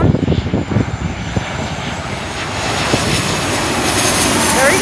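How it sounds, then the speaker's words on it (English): A Delta airliner flies in to land at LAX, its loud jet engine roar sweeping closer and steadily building across the whole stretch, with wind buffeting at the start. "There's another plane coming in. It's like a Delta airline."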